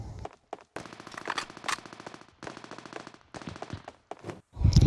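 Rapid automatic gunfire in the shooter video game Scarfall 2.0 during a team deathmatch, several sustained bursts separated by short gaps, ending in a louder, heavier blast.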